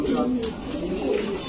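Pigeons at a pigeon farm, including Teddy, Shaharanpuri and Pakistani breeds, coo in a continuous low, throaty murmur close by, with people talking over the birds.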